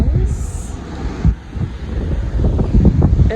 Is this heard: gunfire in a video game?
no